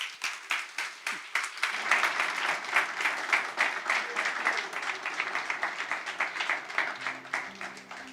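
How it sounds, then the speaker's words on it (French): A church congregation applauds warmly, a steady run of clapping from many hands that builds quickly and holds at a lively, even pace before thinning slightly at the end. "Et je demande à l'Église de l'applaudir chaudement."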